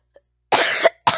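A close, loud human cough in two harsh bursts, a longer one followed by a short second hack after a brief pause, with no talking.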